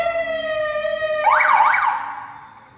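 A seven-function Riguete RGT-5 electronic siren plays a steady electronic tone, then switches to a loud rising-and-falling wail that cycles twice before cutting off, heard up close with no talk.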